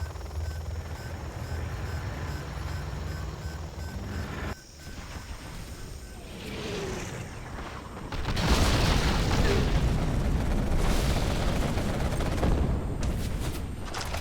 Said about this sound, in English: Here comes the artillery level 2 of Fargo.